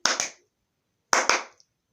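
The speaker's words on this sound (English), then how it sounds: "Clap your hands in your corners." Two quick pairs of sharp hand claps, close and loud in an otherwise silent room, clapped in the corners of a house to drive away spirits.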